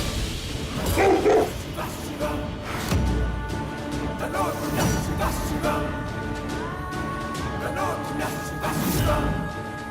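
Wild dogs bark and yip in a jungle over a drama soundtrack, with dialogue and brief crash-like hits mixed in; the barking comes in scattered bursts rather than alone.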